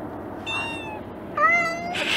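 Indoor cats meowing: two separate, drawn-out, nasal meows close by, the second louder and rising, then a short burst of noise at the end.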